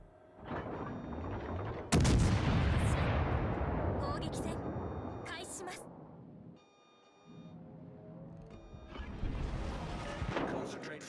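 Warship guns fire in a naval video game, a heavy blast followed by a long rumbling decay, then sharper bursts and another swelling boom, with brief electronic interface tones in a quieter gap.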